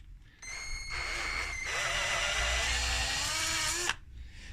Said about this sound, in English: My drill won't quite reach down there. It's halfway in.